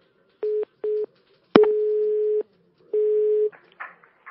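A telephone line gives a tone after a call is cut off: two short beeps, then a sharp click and two longer sustained tones, loud and close, with faint rustling at the end.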